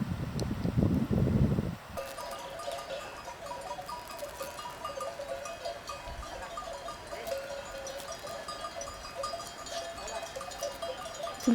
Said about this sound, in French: J'avais rarement vu autant de moutons d'un coup.